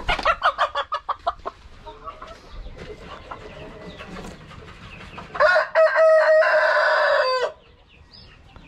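Dekalb Brown hens cluck in a quick run of short calls, then a longer, louder sustained call rises near the end, with farm background noise between.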